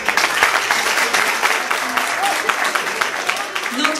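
Audience applause at the end of a Christmas tale show, dense steady clapping throughout while a presenter speaks over it.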